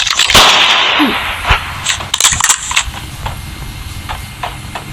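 Sharp, loud gunfire cracks from the video game Call of Duty, battle royale mode, ring out, a few isolated shots followed by lighter clicks and mechanical rattling, with no speech.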